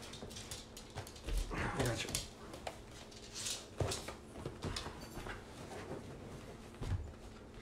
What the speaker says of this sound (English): dog's sitting there staring at me the whole time, trying to get on the couch